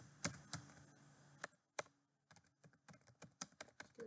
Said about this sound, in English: I type something like